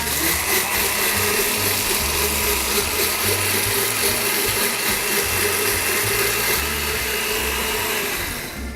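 A kitchen blender whirs steadily as it blends a shake of birdseed and water, about 500 ml in total, a loud continuous motor drone that holds even before easing slightly near the end.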